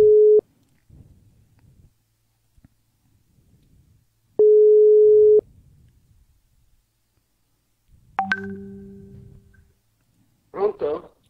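Telephone busy tone over a dropped call line: two long steady beeps separated by a quiet gap, followed by brief muffled noises and a short burst of voice near the end.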